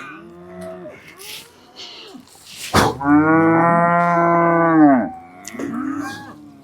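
Young cattle on the South West Coast Path in South Devon moo loudly nearby, one long sustained bellow between shorter lowing calls, with no talk over them.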